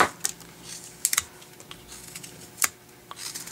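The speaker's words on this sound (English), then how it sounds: "I'm going to go ahead and cut down that area." Knife cuts into wood while carving the face area of a Santa figure, heard as sparse, sharp clicks and scraping snaps spread over a quiet background, close up with no talking.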